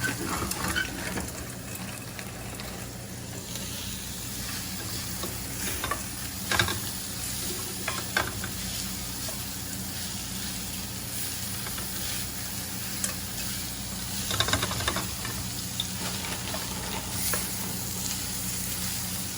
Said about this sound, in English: I'm gonna start making some fries in here